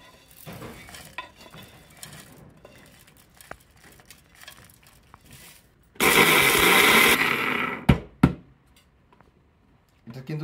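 A blender crushes roasted spices in one loud, steady whirring burst of about a second, preceded and followed by quieter kitchen clatter and stirring.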